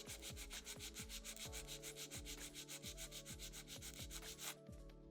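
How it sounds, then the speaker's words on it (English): Nail file rubbed against a fingernail, fast regular back-and-forth scraping strokes in a steady rhythm, close and continuous, with no voices. "File straight out from the nail groove till it's nice and even."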